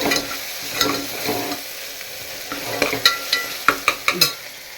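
Ginger paste sautéing in a pan for Madras-style vadacurry, with a spoon scraping and stirring over a soft sizzle. The strokes grow sharper and more rhythmic toward the end, close and fairly loud.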